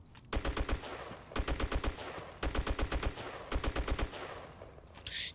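Type95 rifle fired in short bursts at a wall in the video game Black Squad: four tight rapid-fire volleys of about five to six shots each, loud and close, separated by brief pauses, with no talking.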